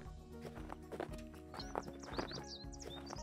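Hooves of a horse ridden in circles land with a soft, rhythmic clip-clop at a steady gait, fairly faint, with occasional high chirping sounds and light background noise.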